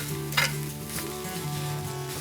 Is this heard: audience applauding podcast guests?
no